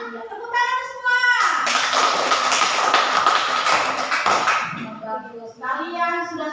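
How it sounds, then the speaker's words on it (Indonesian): Fourth-grade schoolchildren in a classroom clap together in one loud, dense burst of about three seconds. Young voices are heard before and after the clapping. "Tepuk tangan semua."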